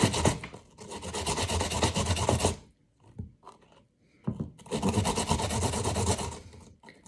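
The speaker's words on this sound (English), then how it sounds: "So you're getting down to the very end of the potato now, the part that you're scraping." Raw potato rasps against a hand grater for boxty, two long bursts of steady, close scraping strokes separated by a quiet pause with a few soft knocks.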